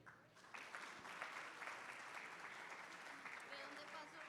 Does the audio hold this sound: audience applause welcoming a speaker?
yes